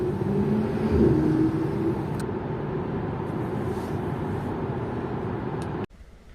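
Inside a 2021 Tesla Model 3 SR+ electric car as it accelerates, a steady, loud road and motor hum swells slightly early on, holds evenly, then cuts off abruptly near the end.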